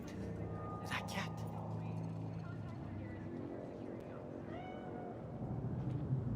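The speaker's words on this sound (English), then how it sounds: "Do you see it? The cat." A cat meows in Cyberpunk 2077, a few short calls near the start over a steady low game ambience, with talk over the scene.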